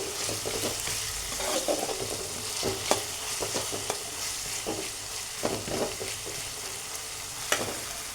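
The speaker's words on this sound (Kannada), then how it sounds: "ಹಸಿ ಮೆಣಸನ್ನ ಹಾಕೋತೀನಿ ಎಣ್ಣೆ ಒಳಗೆ ಫ್ರೈ ಅಂದ್ರೆ ಸಾಕು" Green chillies frying in hot oil for tomato rice, a soft steady sizzle broken by occasional sharp clicks of stirring, close up with no voices.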